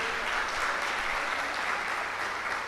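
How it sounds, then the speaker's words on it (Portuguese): Church congregation applauding loudly during a worship service, a dense, steady wash of clapping from many hands that holds unbroken for the whole stretch. "Quem está feliz com Jesus, aplauda bem forte o nome do Senhor"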